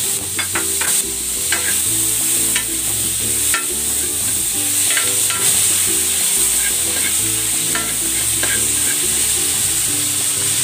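Onion and tomato sauté in a pan for pork sinigang, a steady close sizzle broken by repeated scraping and clattering stirs at irregular intervals, with no talking.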